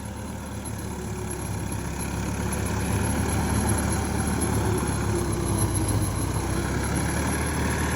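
A Swaraj 744 FE 4WD tractor pulling an old 72-blade Shaktiman rotavator drones with a steady, heavy low rumble that grows slightly louder and strains as it works the field. No one speaks.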